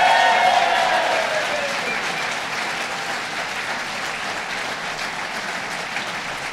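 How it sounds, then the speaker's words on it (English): Audience applause at a public announcement by Governor Cuomo at Hotel Saranac, steady dense clapping that starts strong and slowly thins across the clip with no talk over it. "let's give a big round of applause to Chris Madzer"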